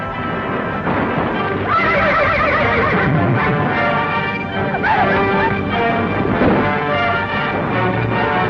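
Horses neigh and whinny loudly and repeatedly over a dense background of hoofbeats and commotion near a river crossing with a wagon caravan, the calls overlapping with no clear pause.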